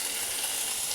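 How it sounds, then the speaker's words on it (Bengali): Chopped tomato frying in a pan, a steady broadband sizzle with no break across the short moment, fairly loud and close with no voices. "টমেটোটা দিয়ে দিলাম। এবার টমেটোটা দিয়ে এরপরে ভাজবো।"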